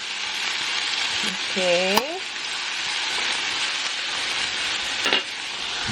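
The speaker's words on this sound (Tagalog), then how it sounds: "hayaan natin maluto yung garlic" Garlic frying in a little avocado oil in a pan, a steady close sizzle running throughout, with a brief spoken word and a faint clatter of stirring near the start.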